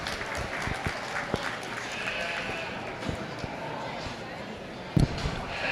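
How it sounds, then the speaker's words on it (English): An arena crowd claps at a sheep show, the applause mixed with bleating sheep, shuffling, and a voice talking over the scene, with a sharp knock near the end. "Let's give him a nice round of applause."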